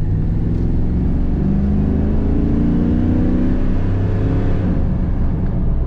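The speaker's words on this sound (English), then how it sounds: "Very good acceleration in this car." A 1994 Chevrolet Camaro Z/28 engine with automatic transmission drones steadily at close range, a low rumbling hum with a slight rise as it accelerates.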